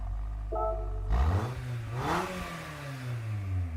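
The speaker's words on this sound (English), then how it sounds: "There's a bit of a rasp to that exhaust note." A raspy exhaust note from a modified four-cylinder Suzuki Jimny XC in Gran Turismo 7 sits over a low idle, then two quick throttle blips sweep up and back down, close and clear.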